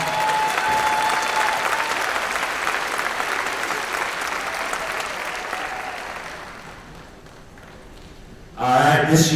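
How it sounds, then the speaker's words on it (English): Sustained audience applause fills a convocation hall, loud and dense, slowly fading toward the end before a voice begins speaking over the tail. "Give that group one more round of applause."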